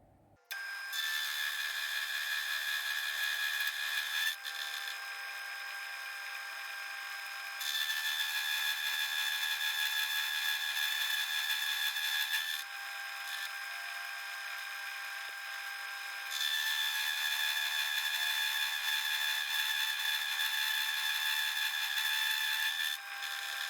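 Small milling machine cutting metal with a roughing end mill, a steady high whine and grinding that rises and falls in long passes with brief quieter gaps, close and continuous.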